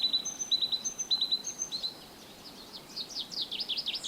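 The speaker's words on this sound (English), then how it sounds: "there is this black and white bird that always goes on this little branch" Repeated bright chirping calls from a black-and-white bird perched on a small branch in Bulgaria in March, coming in quick clusters of short notes and then a faster run of descending whistles, fairly clear against quiet outdoor background.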